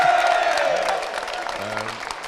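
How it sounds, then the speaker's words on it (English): A short burst of crowd applause with scattered clapping at a 2024 local election count in Waterford, Ireland, fading slightly as it continues. "Give him a round of applause if you want there."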